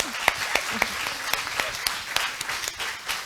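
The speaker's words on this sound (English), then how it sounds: "Please let us give him a round of applause." An audience at a CALESA academic conference day applauds, its scattered individual claps ringing out as sharp, distinct hits at a fairly close distance for a few seconds, with no voices on top.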